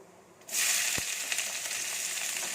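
Finely chopped onion hits hot oil for a potato poriyal and bursts into a loud, steady sizzle that continues close up without pause, with a brief stirring knock partway through.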